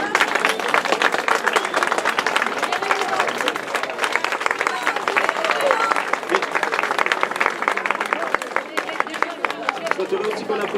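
Crowd at a tenth-anniversary art exhibition opening claps steadily and loudly for about ten seconds, a thick, even wall of applause with faint voices murmuring underneath.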